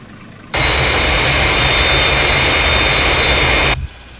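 Fireflash airliner jet from Thunderbirds on approach to the runway, a loud steady jet engine roar that starts abruptly, holds with a high whine for about three seconds, then cuts off.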